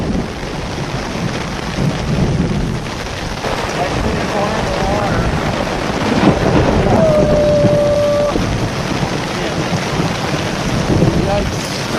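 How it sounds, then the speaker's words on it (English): Steady heavy rain roars throughout with rumbling thunder underneath, and a voice briefly speaks partway through the downpour. "It is a rainstorm coming down."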